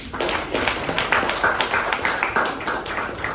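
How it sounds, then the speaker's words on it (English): A room full of people at a Toastmasters meeting applauding, dense steady clapping that continues throughout without any talking. "A big round of applause."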